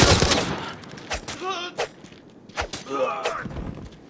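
Gunfire in the video game Arena Breakout Infinite, several sharp shots in quick bursts with footsteps and movement noise between them, while someone talks over the action.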